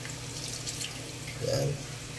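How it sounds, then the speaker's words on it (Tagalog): A glass of water poured into a pot of glutinous rice for champorado, a brief, faint splash and trickle near the end over a low background hum. "Mga ka-vlog, lagyan natin ng tubig, isang baso."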